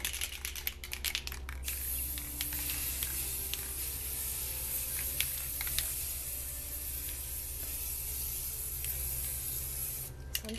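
A continuous hiss of spray coating covers glitter-filled ornaments, close and steady, with faint clicks and rubbing handling sounds throughout.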